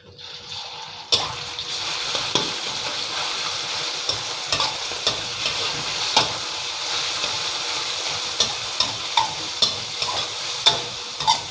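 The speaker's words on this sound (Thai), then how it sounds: "หมูผัดให้สุกพอดีนะครับ" Marinated pork and garlic stir-fried in a hot pan give a steady, close sizzle, with repeated scraping stir strokes at an irregular rhythm; no voices are heard.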